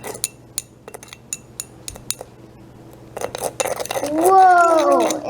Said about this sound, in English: Now stir it in.